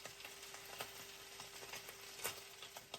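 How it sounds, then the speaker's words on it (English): Red mullet fillets frying skin side down in a hot pan, giving a faint, steady sizzle with small irregular pops and crackles throughout. "when you want to cook the fillets of the red mullets, you always want to start with the side with the skin"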